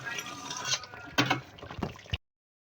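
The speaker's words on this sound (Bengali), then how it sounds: "আমি এখন উলট পালট করে মাংসটা নাড়াচাড়া করে দিচ্ছি।" Beef being turned and stirred in a pot with a spatula: wet squelching and shuffling of meat in liquid, with a few clinks and scrapes against the pot, fairly close, ending abruptly after about two seconds.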